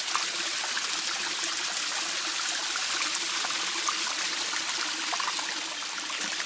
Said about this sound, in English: get it where the rapids are running.